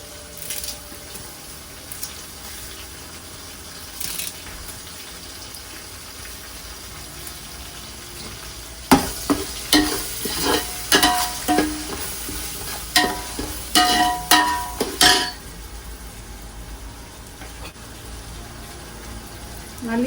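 Curry leaves crackle and fry in oil for a Chennai-style crab curry while a spoon stirs them, the sizzle starting faint and then bursting into a run of sharp, close spits and scrapes midway before settling.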